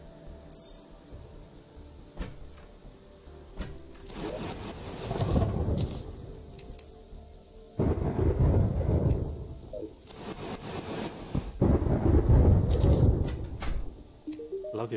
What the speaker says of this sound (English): Damn, that storm!